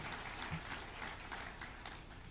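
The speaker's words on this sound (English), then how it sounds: "give them a round of applause" Crowd applause for performers at the Kenya Music Festival in Eldoret, a steady wash of many hands clapping at moderate distance, fairly faint and continuous throughout.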